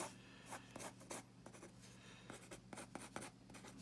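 Pencil lead scratches across paper in quick, irregular strokes, soft close-up scribbles and short dashes with brief pauses between them, faint and intimate in a quiet room.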